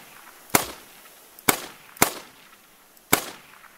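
Four sharp rifle gunshots fired at a moose while hunting in The Hunter: Call of the Wild, spaced irregularly over a few seconds, each a loud crack with a short decaying tail, no talking.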